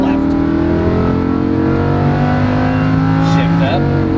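A Lamborghini Huracan race car accelerates hard along a track, its loud engine note climbing steadily in pitch through a sustained, unbroken pull.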